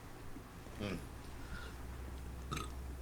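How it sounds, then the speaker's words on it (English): A man's short burp in a casual podcast setting, two brief throaty bursts about a second and a half apart, near and moderately loud over quiet room noise, with no talk. "Sometimes I burp."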